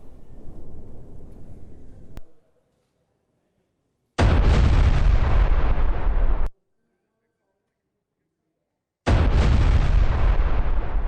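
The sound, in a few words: landmine blowing up Hezbollah tunnel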